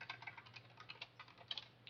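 Rapid, uneven typing on a computer keyboard while coding Java, a steady stream of close, crisp key clicks with a few sharper strikes and no talking.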